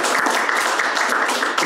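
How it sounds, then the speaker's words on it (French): Audience applause for four candidates at a public election debate in Geneva, a dense, steady clapping from a crowd filling the hall. "Un grand applaudissement pour les 4 candidats"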